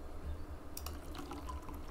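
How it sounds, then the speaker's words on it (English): Water poured into a coffee pot in a video game kitchen, a faint, brief trickling splash over a low steady background hum. "Got a coffee pot here. Let's get some water."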